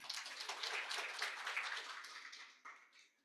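Steady, moderately faint applause from conference attendees welcoming speakers at a policy dialogue event, a dense patter of many hands that thins out toward the end.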